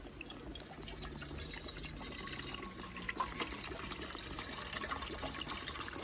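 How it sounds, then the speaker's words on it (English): Water poured into a pot for cooking noodles, a steady continuous splashing fill with a bright hiss, moderately faint and unbroken throughout. "I'm going to place water in that, and then I'm going to cook some noodles too"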